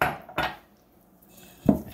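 Chocolate pancake batter, wet ingredients just added to dry, stirred in a bowl: three sharp, well-spaced clinks of a utensil against the bowl, close and fairly loud, with quiet gaps between them.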